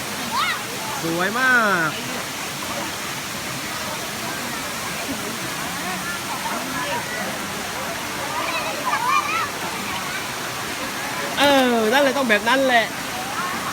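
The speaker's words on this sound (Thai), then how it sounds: "น้ำตกเย็นสบายคนเยอะมาก" Waterfall at Phlio with people playing and chasing fish in the cool water, a continuous rushing roar with splashes, while voices talk and exclaim over it at several points.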